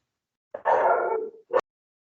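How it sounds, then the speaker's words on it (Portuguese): A dog gives a short bark followed by a quick second yelp, picked up from an open microphone during an online class, close and clear against silence. "o barulho do cachorro vai sair na gravação"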